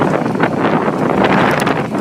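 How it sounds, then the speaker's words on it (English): Wind buffeting a microphone outdoors beside a 1994 Chevy, a loud, continuous rumbling roar with gusty surges throughout and no voices. "Damn wind, I tell you what."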